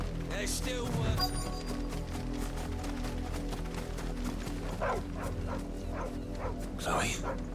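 Dog barking in the video game Final Fantasy XVI, a series of short repeated barks and yips over steady game music and background ambience, fairly close.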